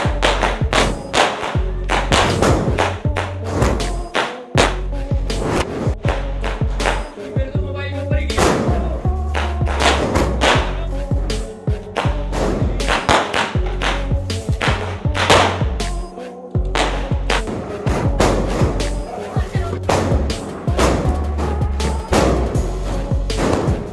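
A long string of Diwali firecrackers bursts in rapid, uneven succession, loud and close, with sharp cracks and thuds packed tightly together and only brief gaps.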